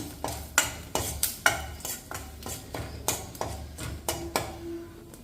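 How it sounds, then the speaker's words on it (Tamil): A spoon stirs ground spice powder sautéing in a pan for traditional South Indian rasam, giving rhythmic metallic scrapes and clinks about twice a second, close by, with a faint sizzle underneath. "இப்போ இடித்த பவுடரை சேர்த்திக்கலாம். அது பச்சை வாசனை போகிற வரைக்கும் நல்லா வதக்கி விட்டுக்குங்க."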